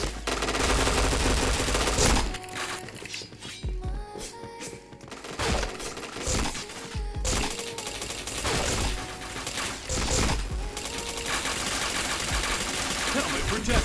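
Video game gunfire rattles in rapid automatic bursts, loud and close, with short pauses between volleys and a few sharp single shots over a dense background.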